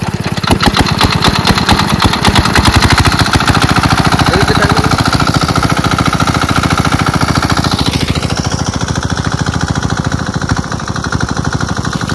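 A pump machine running to drain a village fish pond, its engine a loud, steady rapid chugging throughout that smooths out and shifts pitch slightly partway through, with no voices.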